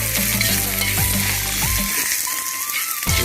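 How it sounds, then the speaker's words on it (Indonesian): Javanese fried rice with cabbage being stirred in a pan, a steady broadband sizzle with scraping strokes of the spatula and faint tonal clinks, continuous and close for about three seconds. "Setelah itu kita aduk"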